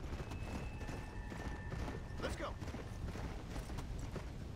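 A horse's hooves clip-clopping in the Undead Nightmare game while climbing a hill, uneven thuds under a steady ambient bed, moderately quiet, with a voice talking over it.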